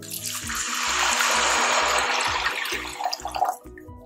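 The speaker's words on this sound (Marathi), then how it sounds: "आता यामध्ये मी पाणी घालते." Water from a glass poured into a pot of fried spice mixture with ginger-garlic paste, making a steady close rushing splash that tapers off with a few drips, while a low rhythmic hum pulses underneath.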